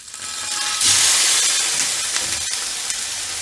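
Food seasoned with salt and pepper fries in a pan for a Japanese breakfast, giving a steady close sizzling hiss that swells briefly and then settles, with no talk.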